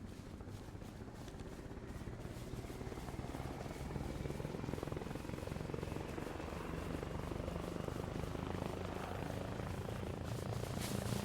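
A helicopter in the video game Arma Reforger thrums with a steady rotor chop at a moderate distance, holding a constant level throughout.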